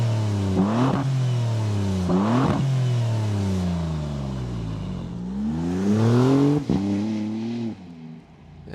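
A Maserati MCPura V6 supercar's perforated exhaust revving repeatedly, sharp throttle blips rising and falling in pitch, then a longer sweeping rev, loud and close with no talking.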